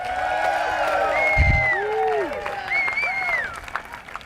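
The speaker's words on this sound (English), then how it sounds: "give yourselves a round of applause because we actually did it" Crowd applause and cheering at an outdoor gun-control rally in Washington, DC, with a steady wash of clapping and voices in a large gathering and overlapping shouts and whoops rising above it.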